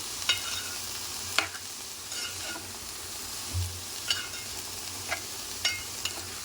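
Cabbage stirred in oil in a frying pan, a steady close sizzle broken by a few sharp scraping and clattering strokes of the spoon against the pan, with no talk.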